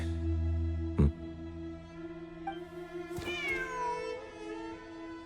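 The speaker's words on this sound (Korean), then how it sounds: "진짜로 고양이가 있잖아." Cat meowing inside a video game, a single drawn-out meow with rising and falling pitch set against steady background game music and ambience, clear and fairly close.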